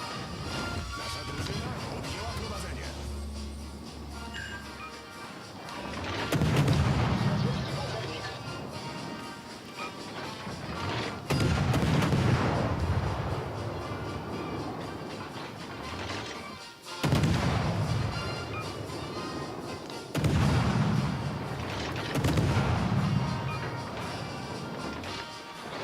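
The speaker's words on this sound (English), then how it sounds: "Concentrate fire on the target. Concentrate fire on the enemy warship." Warship naval guns in the game World of Warships: Legends fire in repeated heavy booming salvos every few seconds, loud and close, with a background game mix beneath them.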